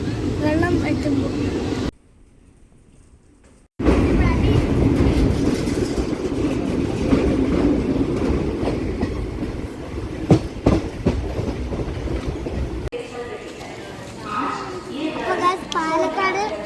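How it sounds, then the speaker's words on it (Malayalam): A moving passenger train bound for Palakkad rumbles along with rhythmic clickety-clack from the wheels, a brief near-silent gap early on, and children's voices and chatter over the steady rail noise. "നമ്മൾ ട്രെയിനിൽ കയറി."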